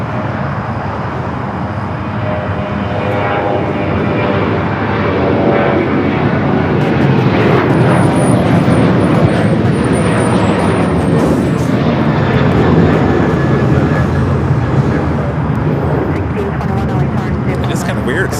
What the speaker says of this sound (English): This is American Airlines 3169 coming in from Miami,